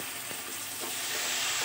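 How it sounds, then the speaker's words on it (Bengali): Spice paste for hilsa fish curry frying in a pan with a splash of added water, giving a steady close hiss with faint scraping, alone and without talk. "মশলাটা ভালো করে কষিয়ে নেব"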